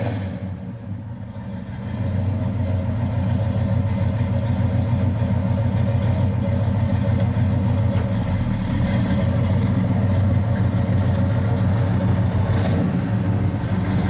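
A 1970 Chevrolet Monte Carlo with a 454 V8 and 2.5-inch dual Flowmaster exhaust idles close by. After a brief softer start, it settles into a steady, throaty low rumble.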